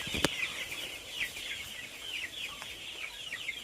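Native country chickens cluck steadily inside a shed, a flock of overlapping mid-pitched calls with occasional sharper squawks, close and fairly continuous, with no talking.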